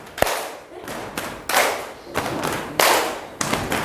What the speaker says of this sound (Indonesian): Ini kalian berarti tetap tepuk tangan, urut.